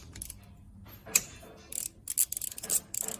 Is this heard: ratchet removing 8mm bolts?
yes